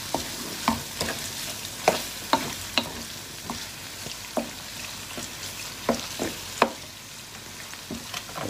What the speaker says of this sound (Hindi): चिकन को भूनेंगे तकरीबन 6-7 मिनट के लिए